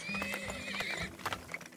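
Horses neighing in the video game Turmoil, a couple of high, wavering whinnies over rapid hoof clip-clops, close and fairly loud with no talking.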